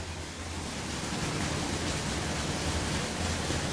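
Water pours steadily from a roadside spout on a mountain road descent, a constant broadband rush that stays even throughout with no talking.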